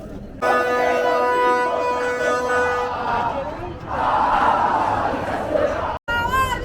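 Atlético Nacional supporters chant in unison at Estadio Atanasio Girardot in Medellín, a loud, sustained massed singing from a huge stadium crowd that swells and surges, briefly cutting out near the end before resuming.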